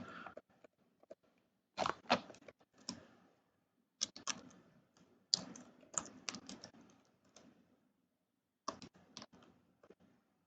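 Keys tapped on a computer keyboard in irregular bursts of quick clicks with short pauses between, fairly close and fairly quiet, no talking.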